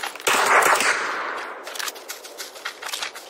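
Automatic gunfire from the battle royale video game PUBG, a loud burst of rapid shots at the start, then a series of quieter scattered shots and distant bursts trailing off.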